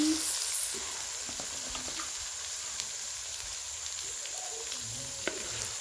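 Onions frying in a pan in an outdoor African village kitchen while a fish and rice dish is cooked, giving a steady soft sizzle with occasional faint crackles and a brief stirring scrape at the start.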